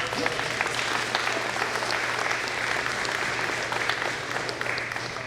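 A room full of residents at an annual town budget meeting breaks into sustained clapping, a continuous close-up patter that stays loud throughout with a faint murmur of voices.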